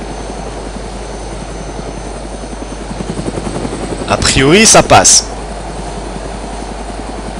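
A helicopter in the survival video game DayZ drones close and loud with a steady, rapid rotor chop throughout. Someone speaks briefly over it, and a louder burst of rotor noise swells near the middle.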